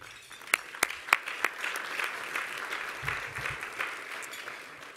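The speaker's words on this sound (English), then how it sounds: "Let's give them a round of applause." Audience applause at a chamber of commerce awards event begins with a few sharp individual claps, then swells into a fuller, steady round of clapping from the crowd that gradually tapers off.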